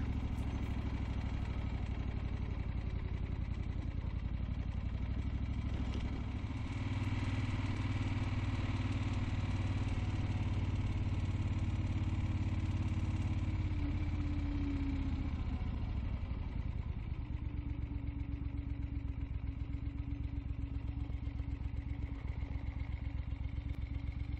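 A Royal Enfield-style Eldorado motorcycle engine runs steadily throughout on a gravel trail byway and a short road stretch, a continuous low rumble with some clatter that shifts pitch midway, loud and close with no talk.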